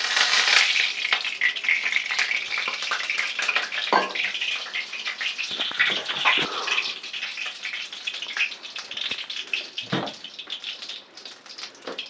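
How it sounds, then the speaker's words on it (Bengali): Mustard oil goes into a wok for a Bengali chicken stew, first a busy hissing splash that gradually settles into a softer sizzle, with a few clinks of utensils and no voices. "এবার কড়াতে দেব সর্ষের তেল।"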